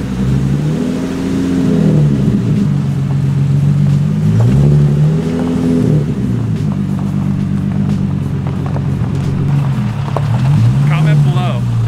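A big-turbo Nissan 370Z drones loudly from inside the cabin during a street drive, its engine note rising and falling through several pulls, with occasional voices under the steady roar.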